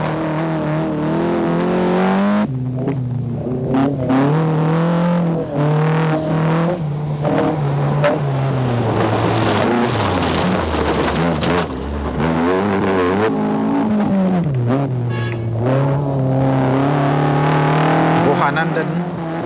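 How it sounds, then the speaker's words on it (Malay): Rally cars, including an Alfa, race through round 3 of the 1992 Malaysian Rally Championship in Negeri Sembilan, with engines roaring and revving continuously and rising and falling in pitch. Loud, close car noise runs the whole time under steady commentary. "Begitu juga dengan kereta yang dipandu oleh Luking Yip ini"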